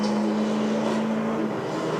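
A V8 touring race car at the Canberra 400 street race, a sustained engine drone with a steady high tone as it passes, loud and continuous over two seconds.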